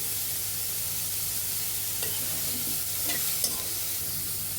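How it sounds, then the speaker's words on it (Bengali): Chopped onion and green chili fry together in a pan over low heat, a constant dense sizzle close by, with a few light spatula taps and scrapes toward the end and no talking. "পেঁয়াজ কুচি লঙ্কা কুচিগুলো দিয়ে দিব একসাথে"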